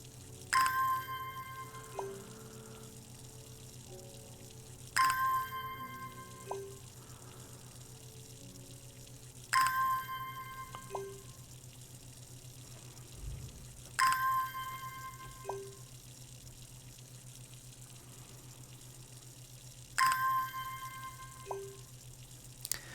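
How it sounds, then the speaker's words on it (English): Plants are watered in the game Strange Horticulture: five short splashing pours of water, each opening with a bright chime, repeat at even intervals over a steady low hum. "Let's water some plants, man."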